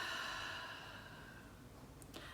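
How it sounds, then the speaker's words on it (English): A slow, soft exhale during a pranayama breathing exercise, a close, gentle breathy rush that gradually fades over a couple of seconds, with no talking. "now exhale in your own way"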